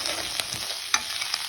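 Cauliflower being sautéed in a pan gives a steady close sizzle and hiss, with a few scraping stirs of a spoon against the pan.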